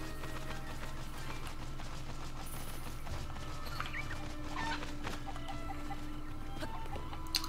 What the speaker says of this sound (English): We got a lot of chickens.